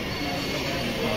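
Darjeeling Mail passenger train running through fog, a steady, loud broadband rumble and rush of wheels and carriage noise throughout, unbroken and close.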